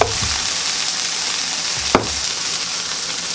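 Mixed vegetables frying in a skillet with a constant bright sizzle, a couple of scraping stirs near the start and one sharp utensil clack partway through, close and fairly loud with no talking.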